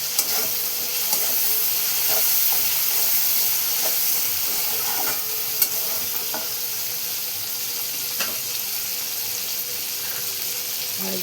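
Cabbage and green peas sabzi with turmeric is stirred in a hot pan. A continuous bright sizzle runs throughout, dotted with soft scraping clicks from the stirring, and no one speaks.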